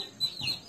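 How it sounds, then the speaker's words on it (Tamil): Peruvedai chicks beside their mother hen give a brief burst of high, thin peeping, faint and close, lasting under a second with a soft low rustle beneath. "பார்த்துக்கோங்க, குஞ்சுகள்லாம் நல்லா ஆக்டிவாக தான் இருக்குது"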